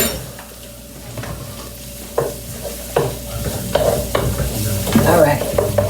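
Onions, garlic and sausage sautéing in a home kitchen pan, a steady sizzle broken by repeated scrapes and stirs of a utensil, close and moderately loud with no talk.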